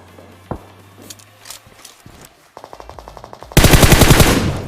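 Video game gunfire near a house across the road: a single sharp shot, scattered distant pops and clicks, then a rapid light burst followed by a loud, sustained automatic volley of close machine-gun fire.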